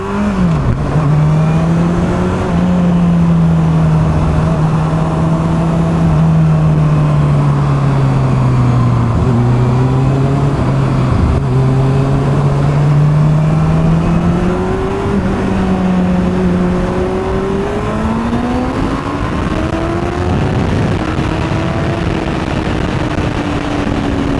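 A Honda CBR600F motorcycle engine accelerates on the road in sixth gear, a loud, steady whine that dips and climbs slowly over twenty-odd seconds under constant wind and road roar, with no talk.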